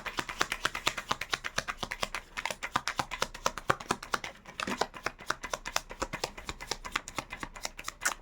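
Tarot cards being shuffled and handled, a dense run of quick riffling taps and flicks that repeats steadily at close range with no talk.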